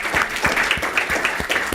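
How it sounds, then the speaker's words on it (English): An audience at a gubernatorial forum on higher education applauds the students who spoke, with a brisk run of distinct claps that stays fairly loud and steady. "let's also give a round of applause to the students who spoke so eloquently and asked the right questions"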